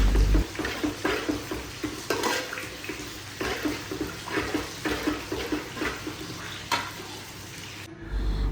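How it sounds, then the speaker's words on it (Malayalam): Masala with coriander leaves simmers and reduces in a pan, a steady wet sizzle broken by rhythmic scraping and stirring strokes at close range. "നമ്മൾ ഈ മസാലക്കൂട്ടിലേക്ക് മല്ലിയിലയും കൂടി ആഡ് ചെയ്തിട്ട് നന്നായിട്ട് വറ്റിച്ചെടുക്കാം"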